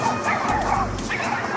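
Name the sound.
dogs fighting and barking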